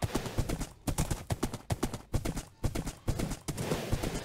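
Hooves of a horse in a video game clip-clop in a steady, rhythmic walking pattern, close and clear with no other sounds.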